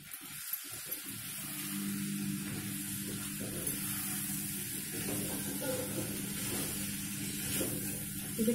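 Chana dal sizzles and fries steadily in a hot pan of oil while coconut curry is being made, a continuous close hiss with faint stirring scrapes throughout.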